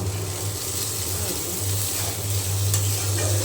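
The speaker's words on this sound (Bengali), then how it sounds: "আমি ভাজিটা এখন ভেজে নেব" Mixed vegetable bhaji frying in a pan, a steady close sizzle with stirring scrapes throughout, running continuously with no talk over it.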